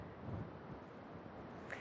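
Gusty wind buffets an outdoor microphone in Blackpool, a steady low broadband rumble that holds throughout with no voices.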